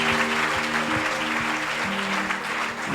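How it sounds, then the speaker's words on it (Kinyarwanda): A church congregation claps together in a sustained burst of applause, a dense rhythmic patter of many hands close by, with a steady tonal hum underneath. "dukomere amashyi umwami wacu"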